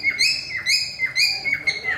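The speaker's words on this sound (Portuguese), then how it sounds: "Ó, passarinho" A small bird chirps nearby in repeated sharp downward-sweeping calls, about four bursts in two seconds, loud and clear with no talking over them.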